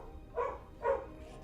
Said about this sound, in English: Some poodle is barking.